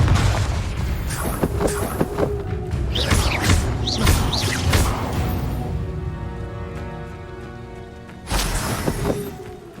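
Repeated Confringo fire spell blasts from the Hogwarts Legacy game boom and crash amid layered combat whooshes and mechanical clatter, with a fresh heavy burst near the end.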